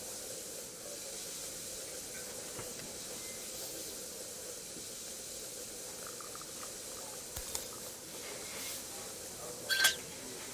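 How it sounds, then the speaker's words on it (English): Steam hisses steadily from broken pipes in the puzzle video game Assemble with Care. The hiss is continuous and fairly even, with a few faint clicks near the end and no talking. "I'll need to connect all the pipes correctly to stop the steam pouring out."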